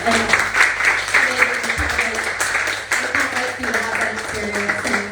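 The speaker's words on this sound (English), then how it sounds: "Big round of applause." Audience applause at a live fundraising event for a tea company, a continuous crowd clapping heard moderately close while voices and background chatter carry on over it throughout.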